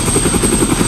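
A helicopter sits on a hospital roof helipad, its rotor thumping in a fast, steady pulse with a high whine, loud and close.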